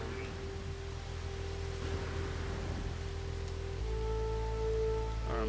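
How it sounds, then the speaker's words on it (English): Toxic rain falls non-stop on a planet in No Man's Sky as a soft, steady hiss of rainfall under a low droning hum and tonal ambient layers that shift partway through; there is no speech. "Toxic rain is non-stop on this planet."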